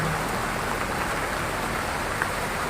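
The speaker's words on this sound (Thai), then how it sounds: "ฝนตกค่ำๆฝนตกค่ำๆอยู่ค่ะ" Steady rain pours down on a home vegetable garden on an evening, a dense even hiss of drops on leaves and soil, close and continuous with no voices.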